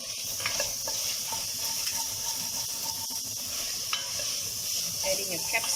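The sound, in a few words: stirring pasta sauce with oregano in pan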